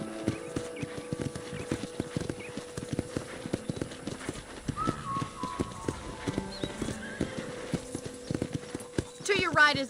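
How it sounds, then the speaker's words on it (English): Horse hooves clip-clop steadily while riding across a ranch in the video game Red Dead Redemption, with an occasional whinny and a voice talking over the hoofbeats. "let's see if you can still ride a horse"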